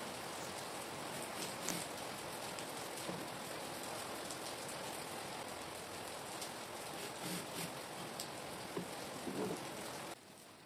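Dense, steady hiss of heavy rain pouring down continuously, with a few faint knocks and taps in the background, no talking.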